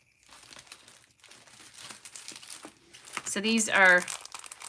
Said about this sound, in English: I'm just gonna grab my green puffy stickers here